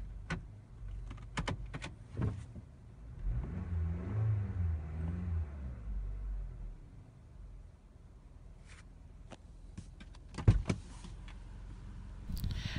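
A 2017 Toyota Camry engine idling steadily after being started with a key, a low, faint hum with a brief rise, broken by a few sharp clicks and knocks nearby.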